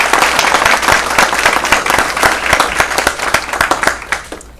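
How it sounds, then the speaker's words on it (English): Enthusiastic applause from a crowd at a school board meeting, steady dense clapping that carries on for several seconds before tapering off at the end. "let's go ahead and give her a round of applause"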